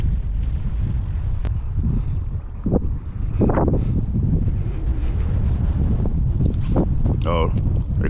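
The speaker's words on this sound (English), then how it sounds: "Oh, here come the wind." Wind gusts over a neighborhood pond, a continuous low rumbling buffet on the microphone, with scattered voices and other faint background sounds mixed in throughout.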